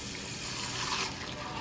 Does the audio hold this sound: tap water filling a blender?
yes